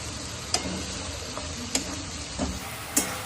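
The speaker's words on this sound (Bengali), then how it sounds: "এবার এর মধ্যে দিয়ে দেবো আদা রসুন পেস্টটা।" Ginger garlic paste sizzles in a frying pan while cooking spicy doi katla fish curry, a steady frying hiss broken by a few sharp stirring clicks and taps of a spoon against the pan.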